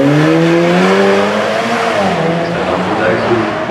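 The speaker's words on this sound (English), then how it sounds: "I'm probably going to demonstrate the silent nature of the product, so in full battery mode" A supercar or hypercar runs in full battery mode at the start line of the Goodwood Festival of Speed. It gives a loud, continuous tonal whine that rises and falls in pitch, under voices talking nearby.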